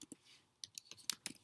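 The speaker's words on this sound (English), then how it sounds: "we're typing in PayPal's web address" Quiet clicking keystrokes on a computer keyboard as a web address is typed, about eight irregular taps in quick succession, close and faint, with no talk.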